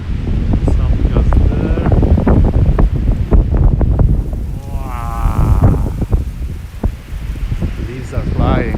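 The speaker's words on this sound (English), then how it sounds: "Wind is really blowing." Strong outdoor wind gusts on a sunny day in Tokyo batter the microphone in continuous loud rumbling buffets, with people talking through the roar.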